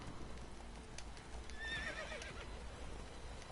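Horse in the video game The Witcher 3, a faint whinny over soft hoof clip-clops and game ambience, quiet and brief.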